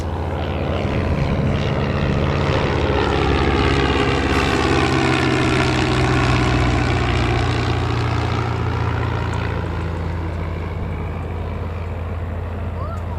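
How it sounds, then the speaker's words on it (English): A small propeller plane approaches to land at Newcastle Airport during training circuits, its steady loud droning hum holding throughout with a gradual swell and fade. "I think there's another little prop heading in there"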